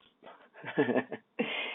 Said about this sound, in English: Sorry, my dogs in the back are going crazy.